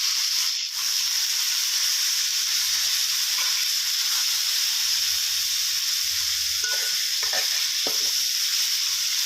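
Green curry paste sizzles and fries in a pan while being stir-fried for a Thai dry green curry with fish balls, a steady, close crackling hiss running throughout with a few soft stirring scrapes.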